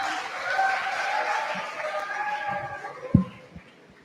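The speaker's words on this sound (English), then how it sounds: "Give them a huge round of applause" An audience applauds at a student Model United Nations conference event, a steady broadband wash of clapping with some crowd noise and tonal hum underneath, fading toward the end.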